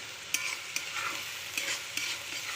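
Onions frying in a pan for a tomato relish, a steady loud sizzle with a handful of sharp scraping stirs at regular intervals, no voices.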